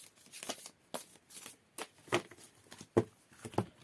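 A deck of divination cards is shuffled and cut, giving a run of crisp riffling flicks and sharp slaps at an uneven pace, close and fairly quiet with no talking.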